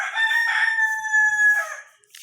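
A rooster crows once, loud and close, its long drawn-out call ringing clearly with nothing else around it.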